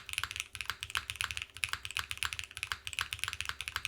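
Fast, steady typing on a Keycult TKL gasket-mount mechanical keyboard, a quick run of crisp, close keystrokes with no voices.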